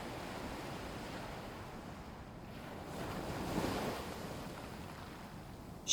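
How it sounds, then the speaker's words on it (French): Gentle ocean waves lap softly on the shore of a calm lagoon at night, a faint, steady wash that swells slightly midway, with light wind noise. "Chaque petite vague vient doucement embrasser le rivage, puis repart lentement"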